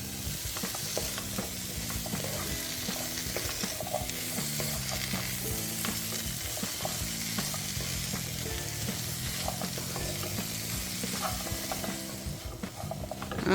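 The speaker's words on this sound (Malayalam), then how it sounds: "ഒരു 4-5 സെക്കൻഡ് ഇങ്ങനെ ഇളക്കിയാൽ മതി, കൂടുതൽ ഇളക്കണ്ട" A green apple pickle mixture is stirred steadily in a frying pan, giving a continuous close scraping and sizzling sound with a regular rhythm throughout.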